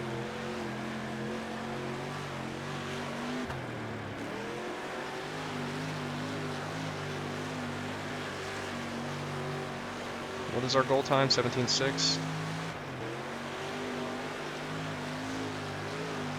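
Sprint car engine droning steadily around a wide dirt track in World of Outlaws: Dirt Racing, with a brief lift and a burst of clatter partway through; someone talks over the constant engine note.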